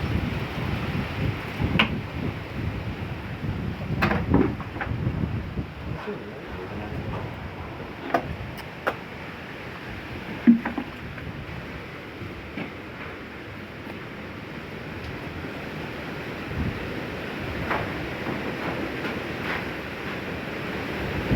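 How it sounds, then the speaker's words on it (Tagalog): Strong wind roars steadily with gusty surges and buffeting, a continuous rushing noise like nearby surf, with no talking. "Lakas ng hangin"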